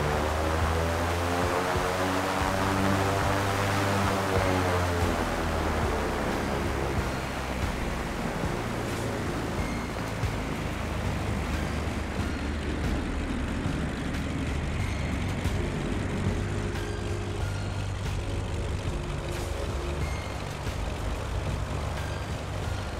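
An airliner in Microsoft Flight Simulator 2020 taxis toward the runway. Its jet engines give a continuous, fairly loud whooshing drone that stays even throughout.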